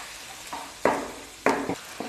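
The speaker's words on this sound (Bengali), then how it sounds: "সব মিশিয়ে লো ফ্লেমে একটু নাড়িয়ে নেব।" Ginger paste, ground cumin and turmeric are stirred in a pan over a low flame, with two distinct scraping strokes and softer touches against a quiet, faint sizzle.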